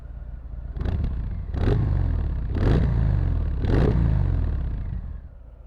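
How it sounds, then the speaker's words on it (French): Harley-Davidson FXDR 114 motorcycle engine revving in three or four loud, surging bursts over a steady low rumble, close by, with no talk. "J'entends le bruit moteur qui a l'air quand même vraiment balèze"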